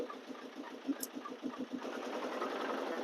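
A small boat engine chugs quietly in an even, rapid rhythm while the boat turns on the Brahmaputra River. The engine sounds distant and faint, with a soft swell of wash and wind toward the end.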